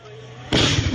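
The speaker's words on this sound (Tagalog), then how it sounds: "Ang malabombang pagsabog na yan ay ang illegal na paputok na kung tawagin ay Goodbye Philippines." An illegal 'Goodbye Philippines' firecracker, part of a batch of confiscated fireworks, detonates more than 100 metres away, a single sudden heavy boom that cuts through a quiet background and rumbles on briefly.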